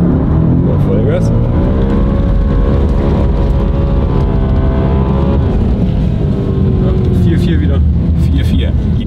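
An Audi, BMW or VW car accelerating at full throttle on snow, its engine droning loudly and steadily with rising harmonic tones throughout, close and continuous.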